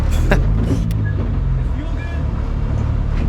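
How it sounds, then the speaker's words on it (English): A race car drives on a track in North Carolina, its engine a steady, droning rumble from inside the car while voices talk over it. "you can enjoy the sounds and the visuals of me driving the car here"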